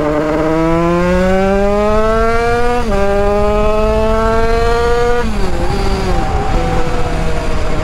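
A 100cc 2Fast kart engine of 35 horsepower screams close by, its pitch climbing steadily through repeated upshifts, then dropping and wavering as it backs off near the end.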